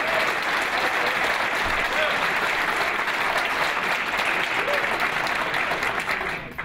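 Audience applause at a public safety hearing, a loud, sustained roar of many hands clapping, dense and even for several seconds before trailing off.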